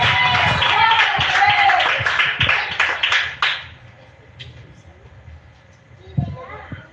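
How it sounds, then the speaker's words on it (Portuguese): A church congregation claps together for about three and a half seconds, a dense and loud burst that then breaks off into quiet room tone with a few scattered claps near the end. "A salva de palmas para Jesus."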